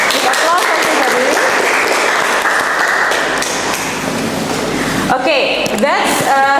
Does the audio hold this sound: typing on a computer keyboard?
no